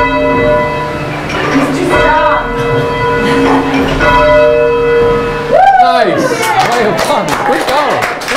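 Heavy tower bells ring out in a memorial bell tower, loud and close, with rich sustained tones overlapping in a steady pealing rhythm, and a brief burst of voices near the end.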